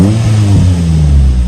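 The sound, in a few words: Morgan Plus 4 Ford 2-litre engine idling after start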